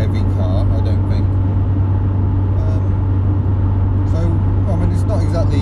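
Steady engine drone and road rumble from inside a Rover 820 base model driving along, loud and constant. Someone talks over the noise.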